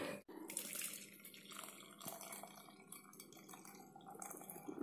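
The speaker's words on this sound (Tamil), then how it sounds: "இதை வந்து நம்ம ஃபில்டர் பண்ணி நாம் குடிக்கலாம்." A homemade herbal kashayam for cold and cough is poured and strained into a vessel, producing a steady splashing, trickling stream of liquid with faint clinks, continuous and close throughout.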